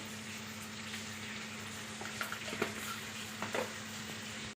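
Vegetable stalks with turmeric, salt and a little coriander powder sauté in a pan for a fish curry, giving a soft, constant sizzle with a few light stirring scrapes.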